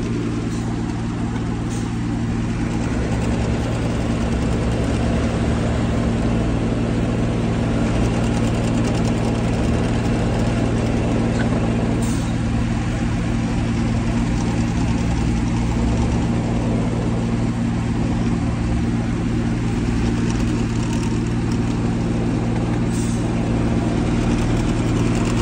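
A tractor engine runs steadily at a fire scene where burning has been partly put out, a constant low idling rumble with a few faint clicks, continuing without pause.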